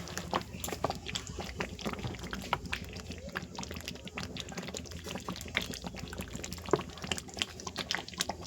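White cooking oil poured over chicken, producing a soft, continuous liquid sizzle and bubbling with scattered small pops, steady and close, with no talking.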